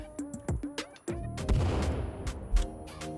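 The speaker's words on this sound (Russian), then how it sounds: "Он в меня стреляет!" Gunshots fired by a mutant at the player in Sons of the Forest, heard as a few sharp separate shots followed by a louder cluster of booming fire with echoing tails.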